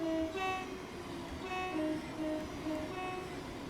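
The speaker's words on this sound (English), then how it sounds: "We'll toot the horn here just to give you the sound of it." Horn of a Thameslink Class 700 electric train in Train Sim World 3, repeated two-tone blasts sounding over the steady rumble and rail noise of the moving train, with no talking.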